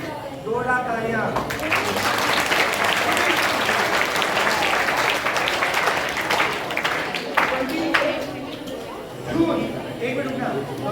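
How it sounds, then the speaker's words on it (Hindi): Loud, sustained applause from a seminar audience fills the room, steady dense clapping with crowd chatter and voices mixed in, tapering slightly near the end. "जोरदार तालियां।"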